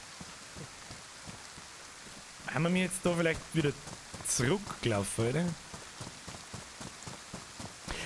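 Rain in the survival video game DayZ, a steady patter of fine drops with rhythmic footstep-like taps, while someone speaks over it in the middle.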